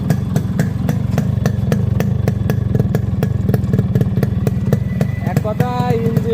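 A Yamaha RXS115 motorcycle engine runs steadily at idle nearby, with a fast, even exhaust pulse and a mechanical clatter throughout, heard alone without talk.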